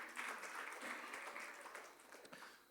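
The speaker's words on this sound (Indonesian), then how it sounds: "Ayo yang percaya tepuk tangan yang meriah bagi Tuhan kita." A congregation at a Sunday church service applauds in a steady, lively burst of many hands clapping together. The clapping is faint and distant, holds level, then thins out toward the end.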